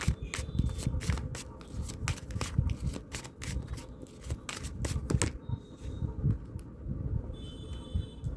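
A deck of tarot cards is shuffled by hand close up, a dense run of rapid riffling flicks and slides for about five seconds, then quieter occasional card sounds.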